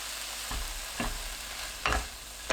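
Cabbage side dish with red chili, perilla oil and sesame seeds is mixed in a pan. Three soft scraping stir strokes sound close over a faint background hiss, with no talking.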